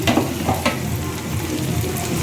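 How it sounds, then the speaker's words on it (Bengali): Chopped onion and tomato fry in a pan for a fish dish, a steady close crackling sizzle with a few sharper stirring scrapes near the start, no voices. "এরপর আমি পেঁয়াজ কুচি আর টমেটো কুচি দিয়ে ভালো করে ভেজে নিচ্ছি।"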